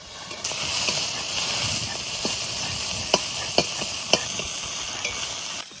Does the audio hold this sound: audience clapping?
no